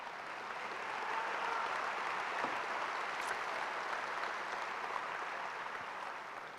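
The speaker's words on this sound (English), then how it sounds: "As a class, I'll give you a chance to applaud" Graduating class at the UNC School of Media and Journalism 2016 spring commencement applauds; a broad wash of steady clapping from a large seated crowd, swelling slightly and holding evenly, moderately distant in a large hall.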